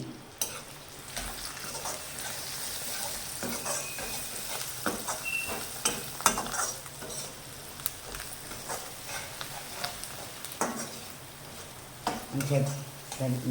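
A spoon scrapes and stirs an aloo poha mixture with salt in a pan, soft irregular scraping and clinks over a faint sizzle, with occasional talk in the background.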